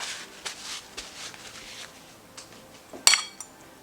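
Habanero chicken salad is stirred in a bowl, with light scraping and tapping from a utensil and one sharp clink against the bowl's side near the end, close and otherwise quiet.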